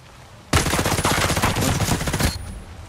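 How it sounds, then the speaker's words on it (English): Gunfire in the video game Ghost Recon Breakpoint erupts abruptly as a loud, close automatic burst of rapid shots lasting about two seconds, then cuts off into quiet. "I hear gunfire."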